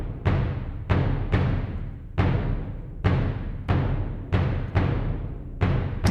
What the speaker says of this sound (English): here we have the bass drum